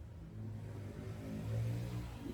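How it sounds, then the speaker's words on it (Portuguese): Motorcycles passing along a street, a faint, distant engine rumble that swells briefly and fades, heard from the roadside with no voices. "tá passando moto toda hora aqui"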